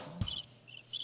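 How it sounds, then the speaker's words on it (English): Crickets chirp in short, high bursts after a soft low knock, quiet and fairly close, with no talking. "I get crickets."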